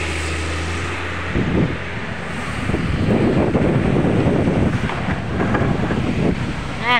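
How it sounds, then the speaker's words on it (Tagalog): Wind blows outdoors at Dagangon in Cagayan de Oro, buffeting the microphone with a steady, moderately loud rushing roar that swells in gusts. "kalami ba sa hangin oy"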